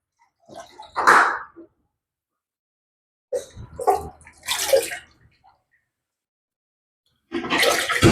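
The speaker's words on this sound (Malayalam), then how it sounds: "നമ്മളിതാ ഇതിൽ വെള്ളം ഒഴിച്ചു കൊടുത്തുകൊണ്ടിരിക്കുകയാണ്" Water poured into a home aquarium during cleaning, three separate gushing, splashing pours with short silent gaps between them, close and fairly loud.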